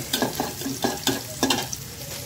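Onion, garlic, whole cumin and bay leaf fry in hot oil for a dal tempering, a close crackling sizzle broken by several sharp stirring scrapes of a utensil in the pan.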